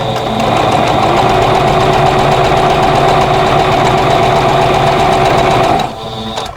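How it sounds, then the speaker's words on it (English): A sewing machine sews a straight seam on a vintage quilt block, a loud steady mechanical whir with rapid even stitching for about six seconds before it suddenly stops, no voices. "I'm going to sew straight down, keeping that corner lined up with the tape"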